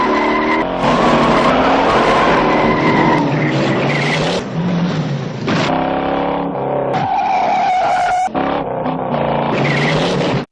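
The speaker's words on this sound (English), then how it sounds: "that was the famous car chase scene from the 1968 action thriller Bullet" The 1968 film Bullitt's car chase fills the clip with loud, continuous racing engines and repeated squealing, skidding tires as the cars swerve, with no gaps in the noise.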